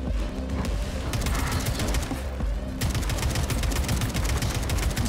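Dense, continuous gunfire from the video game Atomic Heart: rapid overlapping shots and bursts, loud and close, with no gaps across the whole stretch.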